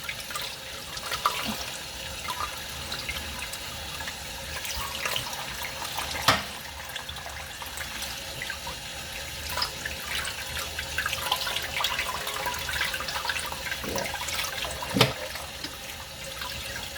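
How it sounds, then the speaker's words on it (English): Running water from a kitchen sink tap pours steadily as pork spine is rinsed for Mexican posole, a continuous soft splashing with occasional louder clinks and drips, no voices. "Just keep on washing until you get the soap. Wash it out really good."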